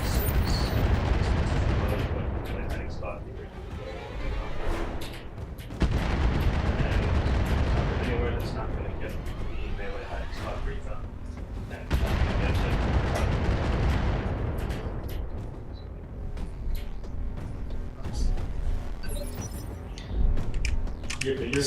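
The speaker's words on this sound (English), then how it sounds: "So much artillery." Repeated heavy artillery blasts from mech combat in the video game Battletech, loud rumbling booms recurring every few seconds across the whole stretch, with dense gunfire-like crackle between them.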